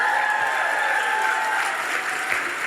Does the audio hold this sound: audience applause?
yes